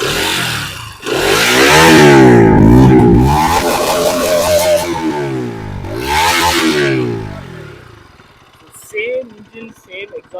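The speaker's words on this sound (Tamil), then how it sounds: "ஸோ இதான் வந்து எக்ஸாஸ்ட் நோட்டு" A 2025 Bajaj Pulsar RS200 motorcycle's exhaust revs hard twice, each sweep climbing and falling in a loud, raspy roar, then drops back to a low idle, heard up close with brief talk at the end.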